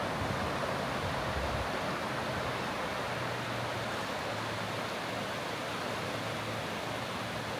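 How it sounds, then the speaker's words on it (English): Ocean surf washes onto a beach in Maine in a steady, broad hiss and roar, with a low rumble underneath and no voices. "Water rolling in."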